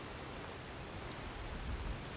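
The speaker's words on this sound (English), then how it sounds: "it's the first time it's rained in this playthrough heavily enough where now I am starting to get wet" Heavy rain falls in Skyrim, a dense, even hiss of broadband noise that stays steady throughout with a faint low rumble underneath and no voices.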